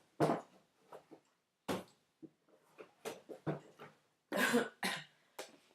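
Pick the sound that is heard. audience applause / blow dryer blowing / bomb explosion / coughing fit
coughing fit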